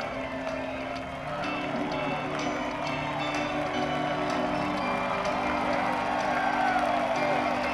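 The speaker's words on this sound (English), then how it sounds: "send them out with your applause, your love, and your appreciation tonight" Arena crowd at the 2016 Tennessee Walking Horse World Grand Championship horse show cheers and applauds steadily in a dense, continuous roar that holds for the whole stretch.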